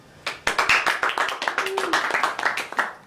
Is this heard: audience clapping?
yes